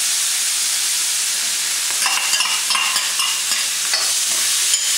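Mushrooms, bamboo shoots and pork sizzle hard in a wok, a loud continuous frying hiss with scraping stir strokes rising through the middle, no talking.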